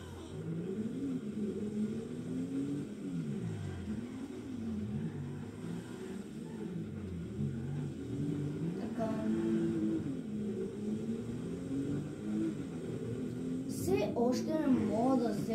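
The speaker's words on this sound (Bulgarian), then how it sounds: "Само да се чуя звука на колата." A car engine hums and rises in pitch as the vehicle pulls away and accelerates, a steady low drone with shifting revs that swells near the end.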